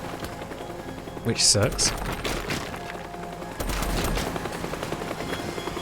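Gunfire from the video game Teardown crackles in rapid bursts over a busy wash of game noise and a helicopter-like drone, with a voice briefly speaking.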